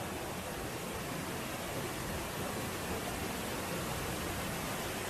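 Rushing water pours over Biduan Waterfalls in a dense, unbroken roar that stays even and full throughout, with no voices.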